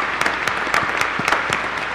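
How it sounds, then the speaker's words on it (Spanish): Welcoming applause from a Mass congregation greeting a bishop in church, a steady full crowd of clapping with some louder claps rising out of the wash. "Le podemos dar un aplauso de bienvenida."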